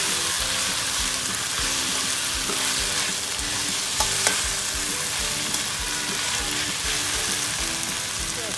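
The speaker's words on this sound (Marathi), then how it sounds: "त्याच्यामध्ये कोलंबी टाकणार आहोत आणि मस्त 2 मिनिटासाठी शिजवून घेणार आहोत." Prawns frying and being stirred in a hot pan for a chilli prawn dish, a steady loud sizzle with occasional scraping stirs, no voices.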